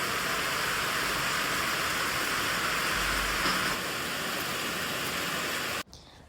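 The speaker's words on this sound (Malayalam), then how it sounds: "ഇപ്പം ഇവിടെ നല്ല മഴയാണ്." Heavy rain falls in a steady, dense hiss that holds evenly for several seconds before cutting off abruptly.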